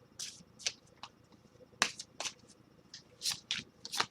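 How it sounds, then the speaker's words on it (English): A deck of playing cards shuffled during a psychic reading, heard as crisp, quiet bursts of riffling and snapping card flicks repeating irregularly, close by, with no talking. "let's shuffle some cards"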